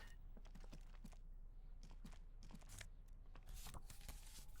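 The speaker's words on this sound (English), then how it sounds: "This is a Dewey typewriter." Typewriter keys clacking in Disco Elysium, an old Dewey-model machine struck in quick irregular taps and thunks over a steady low game ambience.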